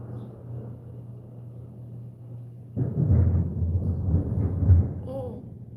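Thunder from a passing thunderstorm rolls in midway as a low, fairly distant rumble, swelling and fading over a few seconds after a quieter stretch of steady low background hum.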